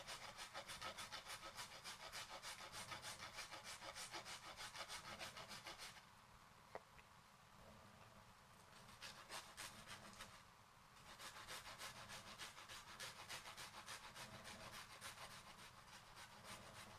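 A garlic clove rubbed quickly over a microplane grater while preparing New York strip steaks makes close, fine rasping strokes in a fast steady rhythm, with a short quieter pause midway.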